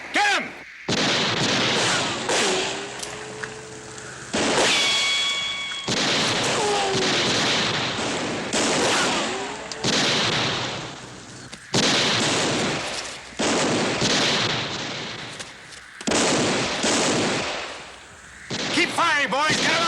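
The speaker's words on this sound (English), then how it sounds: "Keep firing, boys. Get him out of there." Repeated gunshots in a TV western shootout, sharp loud cracks spaced irregularly across the scene with ricochet whines and shouting men between shots, some bursts overlapping.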